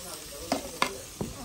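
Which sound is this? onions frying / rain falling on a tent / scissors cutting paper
onions frying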